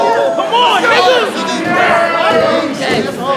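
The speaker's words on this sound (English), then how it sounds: "Let them cheer. Let them cheer. Let them cheer." A rap battle crowd cheers and shouts in a loud, excited mass of voices, with chanting and hollering rising and falling close by throughout.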